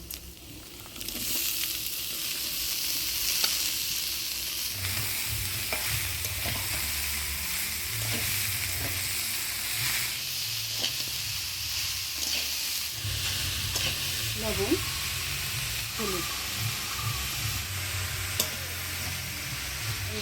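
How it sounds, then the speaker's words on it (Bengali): Lightly fried moong dal and cut pumpkin are stirred in a pan over a constant sizzle, with repeated low scraping strokes and occasional clicks of the spoon throughout. "দিয়ে ভালো করে নাড়াচাড়া করে নিলাম"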